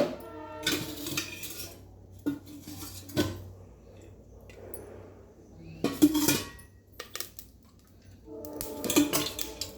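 A metal cooking pot is set down on a stove with sharp clanks and clatters in separated bursts. Quieter shuffling fills the gaps as oil is added, close by and with no voices.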